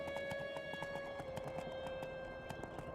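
Horse hooves clip-clop in the video game Two Worlds, a steady rapid clatter of hoofbeats over a constant droning musical background, with no talk.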